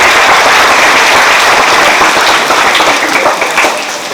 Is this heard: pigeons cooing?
no